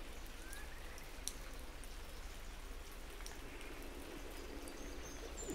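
Rain falls heavily outdoors in an autumn landscape, an even, soft patter and hiss with no letup and no talk over it.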